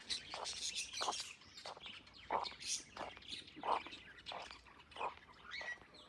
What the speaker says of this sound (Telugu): పక్షులు సౌండ్.